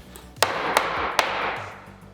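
Three sharp, loud hammer strikes land in an uneven rhythm, comparing Estwing and Stiletto hammers swung one blow at a time, with each impact ringing briefly and no talking over them.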